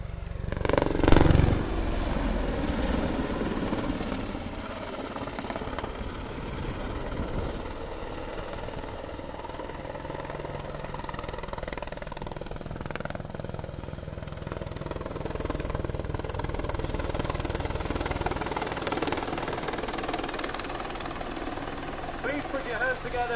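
An Apache attack helicopter performs a quick stop at the 2014 Wings & Wheels air display, its rotor and turbine roar a steady, throbbing drone that swells and fades slightly, with a commentator's voice over it.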